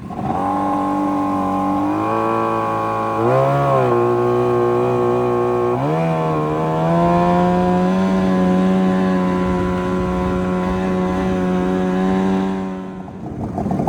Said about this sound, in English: Motor runs great, like runs perfectly.